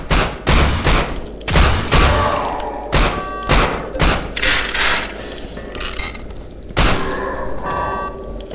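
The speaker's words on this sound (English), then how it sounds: "Shotgun." Shotgun blasts in the From Dusk Till Dawn game: a rapid series of loud, heavy booms, roughly one per second, with thuds and clanks between them and little talk.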